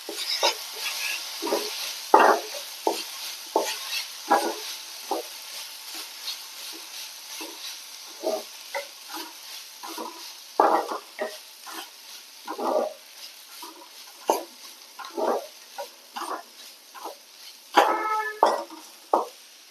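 Dry broken wheat is roasted in a hot pan for laddu, with irregular scraping strokes of a spoon and a faint sizzle underneath, no talking.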